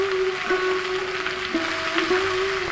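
Chopped bathua greens go into a pan of browned, fried ingredients, giving a steady, close sizzle with a faint constant hum underneath and light stirring noises.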